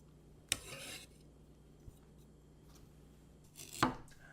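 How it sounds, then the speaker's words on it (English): A knife chops parsley on a board in a quiet kitchen, with two sharp isolated knocks about three seconds apart, the second with a short scrape, and a faint tap between. "I'm just going to chop up some parsley"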